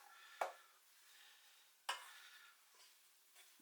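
Spoon scraping and stirring beef suet into a rissole mixture in a pot, three sharp scrapes with softer swishes between, quiet and close.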